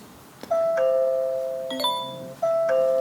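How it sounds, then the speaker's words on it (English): A smart doorbell chime set off by a motion sensor in a home automation setup plays a clear two-tone ding-dong, then begins again partway through, ringing loud and close with no voices. "I will get this chime that somebody is approaching my door"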